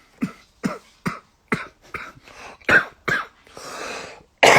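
Repeated coughing fits from a weak, ailing person, about nine separate harsh bursts spaced through the stretch and ending in a longer raspy breath, loud and close with no talk.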